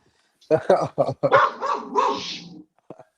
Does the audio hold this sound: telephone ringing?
no